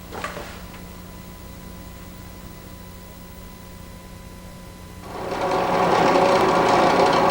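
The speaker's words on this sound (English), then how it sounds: "When you drill a hole, the wood you're drilling should not move or vibrate." A woodworking drill boring a hole in wood, starting after a steady motor hum and rising into a loud, sustained whirring grind over the last couple of seconds.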